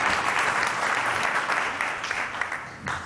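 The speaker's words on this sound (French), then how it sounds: "il faut l'applaudir" Audience applause at a conference honoring an award-winning woman, steady clapping from a crowd that thins slightly toward the end with a last swell.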